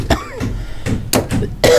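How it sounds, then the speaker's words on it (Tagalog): Several harsh coughs come in a ragged series, close and loud, with short pauses between bursts and a throat-clearing rasp. "Hindi pa mawala ang ubo ko."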